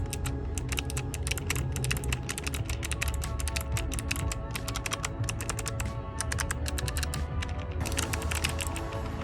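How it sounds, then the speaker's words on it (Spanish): Typing on a Logitech G915 keyboard, a fast, steady run of crisp key clicks and taps that continues unbroken, close and fairly quiet, with no talking. "un sound test del teclado G915 de Logitech"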